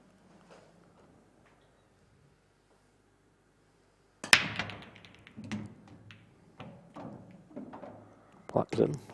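Pool balls strike hard at the table in the Supreme Masters pool match, a sharp clack and then a dull thud from the black ball dropping into a pocket, with several more knocks and rattles afterward under faint speech.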